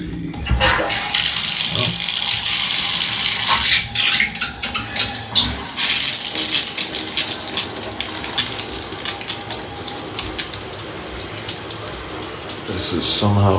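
A hotel shower head at a Courtyard by Marriott in Vicksburg, Mississippi sprays water loudly and close, with gurgling changes as the spray is adjusted and brief fixture knocks.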